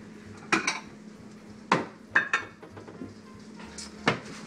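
A bowl is fetched in a kitchen for spinach, with a few scattered clinks and knocks of dishes and utensils, some sharp and ringing, over quiet background.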